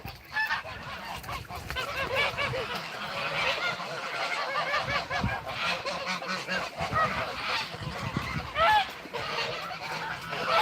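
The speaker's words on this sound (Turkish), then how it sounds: "Arkadaşlar burada 300 üzerinde kaz var." A large flock of over 300 geese on a farm honking continuously, dense overlapping calls close by, loud and raucous throughout with no pause.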